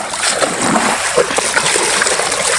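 Rushing water splashes loudly and continuously near a Filipino coastal fishing spot, a dense churning roar with brief voices faintly underneath.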